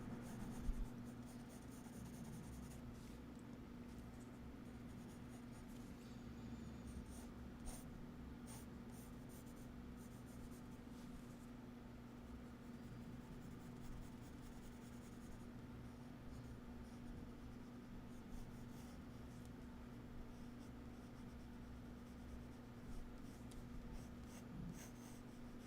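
Graphite pencil scratches and scrapes across paper in a long, steady run of soft strokes, close and alone under a constant low hum, with no talk.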